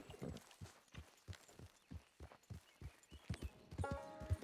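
Hooves of a horse walking in a video game, a steady, clear clip-clop of separate footfalls that quickens slightly toward the end, with no talking.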